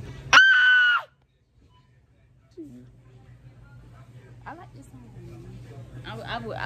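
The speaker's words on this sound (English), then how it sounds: "Here goes the scream." A person lets out a loud, sustained scream lasting about a second, then quiet room tone with a steady low hum, followed by scattered talk and rustling.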